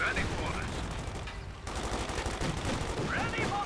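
A 20mm flak cannon in Company of Heroes 2 fires at riflemen, rattling out dense bursts of rapid gunfire amid battlefield noise, with a commentator talking underneath.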